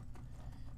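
Horse hooves clopping in Skyrim during mounted combat, a short low rumbling patter with a couple of soft hoof beats close by.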